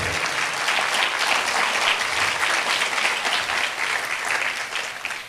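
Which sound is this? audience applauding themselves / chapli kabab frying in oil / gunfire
audience applauding themselves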